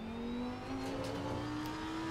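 A Lamborghini engine in a racing sim game climbs steadily in pitch as it revs and accelerates, a smooth continuous whine heard alone at moderate volume.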